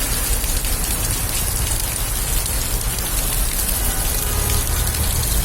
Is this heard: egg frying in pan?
no